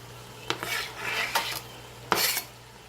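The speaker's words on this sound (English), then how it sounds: "So right now I'm going to add my green chili" Green chile is added to a pot of stew with a few metal utensil scrapes and stirring clatters, short bursts over a faint background sizzle, close and fairly quiet with no talking.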